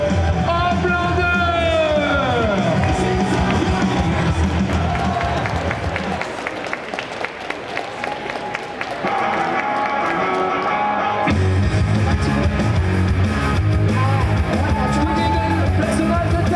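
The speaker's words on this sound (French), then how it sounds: "je vous demande de faire un tonnerre d'applaudissements pour Monsieur Homelander" A comic con cosplay parade crowd cheers and applauds a Homelander cosplayer, loud and dense, with yells, whoops and music mixed in, briefly dipping midway before swelling again.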